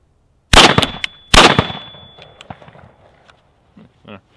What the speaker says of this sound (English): Just for our baseline for you guys at home, we'll shoot it unsuppressed first.